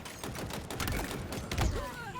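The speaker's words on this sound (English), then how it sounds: "Gunfire." Rapid gunfire in the online shooter Halo Infinite, bursts of clattering shots and thuds crackling over game ambience, fairly close and busy, with a brief heavier impact near the end.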